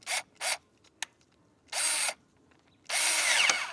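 A power drill drives a lag screw into a wooden fence in short bursts: two quick spins, a click, then a longer run and a final sustained drive, close and fairly loud.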